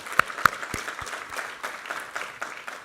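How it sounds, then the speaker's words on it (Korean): Church congregation at a Sunday service claps, starting with a few sharp, separate claps and settling into quieter, scattered applause. "우리 하나님께 감사와 영광의 박수 올려드리겠습니다"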